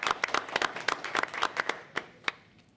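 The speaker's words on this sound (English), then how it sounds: "let's give him some applause" Scattered hand clapping at a city council meeting greets a new staff member, a thin burst of individual claps that slows and fades toward the end, heard alone without talk.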